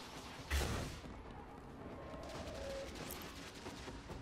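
Gunfire in the video game Destiny: a sharp blast up close, followed by a quieter, continuous rattle of distant shooting and mechanical clatter that goes on throughout.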